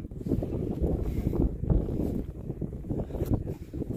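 Strong, cold gusty wind on Mt. Olis in the Philippines buffets the microphone with heavy low rumbling and surging bursts, loud and continuous with no voices.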